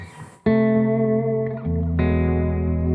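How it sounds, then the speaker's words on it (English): Sustained electric guitar chords ring out through a delay pedal with a long, washy tail of repeating echoes blurring into a reverb-like ambience, played alone and fairly loud. "I try to get to the delays to sound like reverb"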